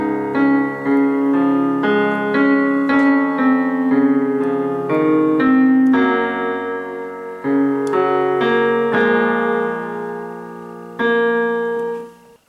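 Slow piano rendition of part 7 of a theme from Over The Garden Wall, with steady rolling chords and broken arpeggios played close and clear for about twelve seconds, no voice over it.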